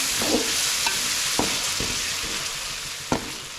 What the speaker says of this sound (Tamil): அந்த தக்காளியை சேர்த்துக்கலாம் சேர்த்து நல்லா கலந்து விட்டுடலாம்